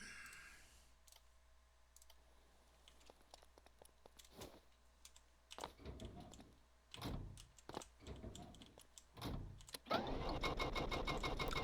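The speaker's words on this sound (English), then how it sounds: "What is going on with this engine?" An engine in the Stormworks video game cranks and sputters in uneven bursts mixed with mouse and keyboard clicks, then roars into a loud steady run near the end.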